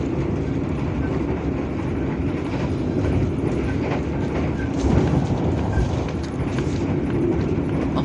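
Java Priority passenger train rolling on the rails, heard from inside an Imperial-class carriage: a continuous low rumble with rhythmic clickety-clack joints and occasional louder jolts, steady and close throughout.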